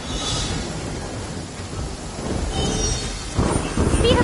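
Rain and rumbling thunder in the video game Genshin Impact, a dense, loud storm wash that swells toward the end, with talk partly mixed in.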